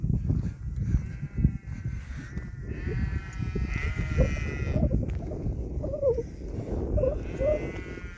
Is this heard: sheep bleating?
yes